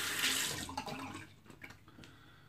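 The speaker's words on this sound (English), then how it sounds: "I'll wash that off my hands." Shaving soap rinsing off hands under a running tap makes a close, full rush of water that splashes loudly at first, then thins to softer trickling and splatters.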